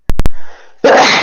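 A single sharp sneeze bursts out loudly up close, preceded by a few quick clicks and a brief breathy intake, then ends in a forceful noisy blast.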